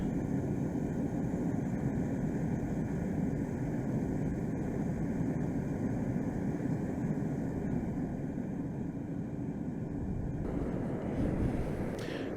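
A homemade propane furnace burner roars steadily with a loud, broadband rushing noise, close and continuous for about twelve seconds, its tone shifting slightly near the end as the flame is throttled down.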